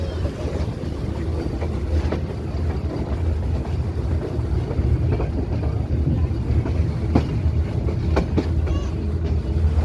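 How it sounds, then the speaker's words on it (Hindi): A metre gauge train pulls out of Nanpara Junction, a steady heavy rumble of wheels and carriages with occasional clicks and knocks from the track, heard from on board under some wind noise. "अपने निर्धारित समय पर हमारी ट्रेन नानपारा जंक्शन से डिपार्ट कर चुकी है।"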